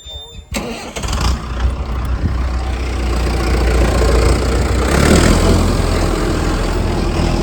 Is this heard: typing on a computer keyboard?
no